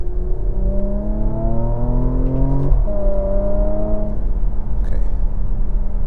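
A 2017 Porsche Macan GTS in its most aggressive drive mode revs its engine through PDK paddle upshifts, a steady rising drone that drops in pitch at each shift, heard from inside the cabin with a brief spoken word.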